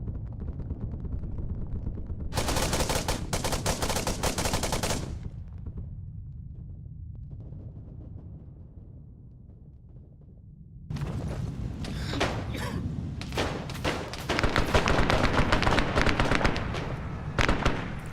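Rocket and artillery fire in the game Arma 3: heavy rumbling bursts and dense crackling volleys, loud and close, with a quieter lull between barrages and a long sustained stretch of rapid blasts.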